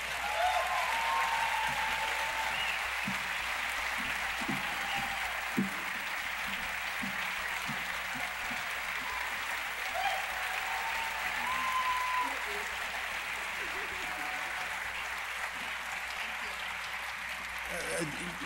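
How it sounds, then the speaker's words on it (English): An audience at a film festival introduction claps in sustained applause, a dense even roar of hands that holds steady for a long stretch, heard from within the hall. "I must ask you to please give an applause for the festival director, Nate Cohen, and the associate director, Mar"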